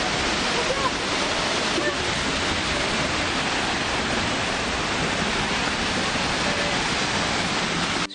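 A waterfall in the Icelandic wilderness roars steadily at close range, a dense, unbroken rush of falling water that stays loud and constant throughout.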